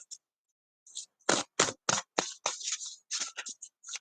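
A tarot card deck being shuffled close up, with a series of sharp riffling bursts of cards flicking against each other in irregular rhythm, with quiet gaps between.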